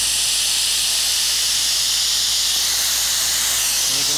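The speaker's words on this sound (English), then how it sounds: "And you can hear it coming out of this dead man valve now. There's a ton of air coming through here." Compressed air hisses steadily through the dead man valve of a sandblasting blast pot, a loud, continuous, unbroken high rushing sound with no voices.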